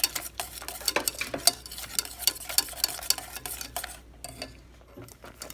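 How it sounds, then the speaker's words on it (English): Whisk clattering briskly against a pot of ragi finger millet porridge, rapid close scraping and tapping strokes that ease off near the end. "I'll keep whisking it until all the lumps disappear"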